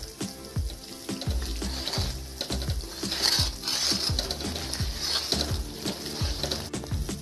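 Wheat flour (atta) roasting in a pan for Punjabi panjiri while being stirred continuously, heard as a soft frying crackle under a regular series of low scraping thumps from the stirring, close and fairly quiet.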